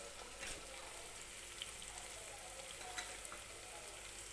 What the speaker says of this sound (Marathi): तर कांदा आणि टोमॅटो छान असा भाजलेला आहे